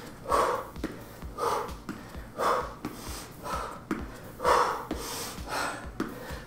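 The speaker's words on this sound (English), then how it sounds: "try and control the breathing." Heavy, rhythmic breathing during a home plank exercise in a full-body workout, with a forceful breath roughly once per second, close and fairly loud, with no talking.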